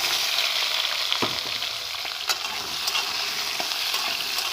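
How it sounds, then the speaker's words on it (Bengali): Cut potato and eggplant fry in a pan with a steady, close hiss of hot oil, broken by occasional clicks and scrapes of stirring. "আগে থেকে কেটে রাখা আলু বেগুন দেবো"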